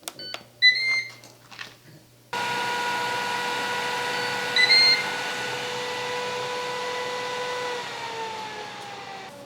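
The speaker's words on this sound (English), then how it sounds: "it's been 40 minutes and it beeps" A Ninja Foodi SmartLid OL701 cooker, baking a ravioli lasagna casserole, sounds a few short electronic beeps near the start, followed by a steady hum and a fainter tone later on.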